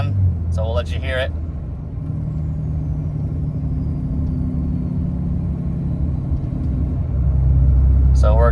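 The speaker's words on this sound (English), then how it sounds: "we got the turbo brake on and we got tow haul mode on, so we'll let you hear it." Ram Cummins 6.7L turbo diesel pickup towing with the turbo exhaust brake engaged in tow haul mode gives a loud, steady low rumbling drone that swells near the end, with brief bits of speech at the start and close.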